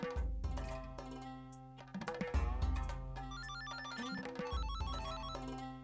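Telephone ringtone playing a repeated electronic melodic ring over soft background music, moderately loud and close.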